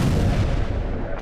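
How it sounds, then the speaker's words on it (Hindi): Explosion from a drone attack near an oil field on a hillside by Fujairah port, UAE: a loud, dense booming rumble that fills the short stretch and tails off slightly, with no voices. "ऑयल फील्ड के नजदीक पहाड़ी पर विस्फोट हुआ"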